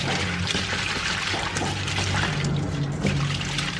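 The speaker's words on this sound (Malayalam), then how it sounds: "ഇത് നമുക്ക് കൊഞ്ചിനെ ഒന്ന് കഴുകി വരിയെടുക്കാം." Water splashes and trickles steadily as dried prawns are rinsed by hand, a continuous wet sloshing with no voices.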